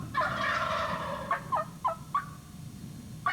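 Wild turkeys gobbling in spring woods: a long rolling gobble followed by several short, sharp calls spaced apart, moderately near, with no talking.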